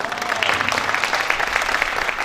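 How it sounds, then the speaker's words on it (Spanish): Audience applause at the La Magdalena Fest, a brief burst of steady clapping from a crowd, loud and close. "vamos a darle un aplauso"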